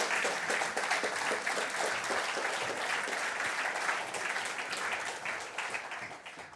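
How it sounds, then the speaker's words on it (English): An audience at a UK directors' meeting applauds three volunteers called up on stage, a full, dense wash of clapping that holds steady for several seconds before tapering slightly at the close. "Round of applause, please, for these beautiful people."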